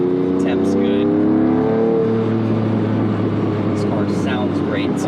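Lamborghini Diablo SE30 fitted with an aftermarket non-stock exhaust, running on a test drive: a loud, steady engine drone with shifting harmonic tones as it revs, continuous throughout, with brief speech over it.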